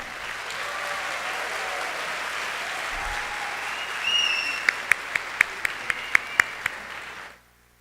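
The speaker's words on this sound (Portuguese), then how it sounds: "Uma salva de palmas para os nossos irmãos do Quênia" Steady applause from a church congregation fills the room for several seconds, then a few sharper individual claps ring out before it abruptly stops.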